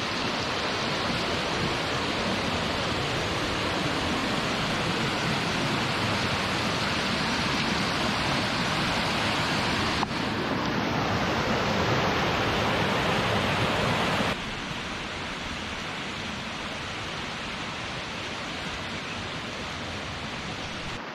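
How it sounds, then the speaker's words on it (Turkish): Spring meltwater rushes loudly and steadily through Kurudere Valley, Turkey, where three creeks and the Leylek stream join, a dense, unbroken roar that dips slightly in level partway through. "burada 3 derenin birleşimiyle ve leylek suyunun da katılımıyla ilkbaharda coşkun bir suyu oluyor"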